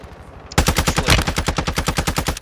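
Rapid automatic gunfire from a Counter-Strike match, a dense steady burst of sharp shots starting abruptly and continuing without pause, loud and close.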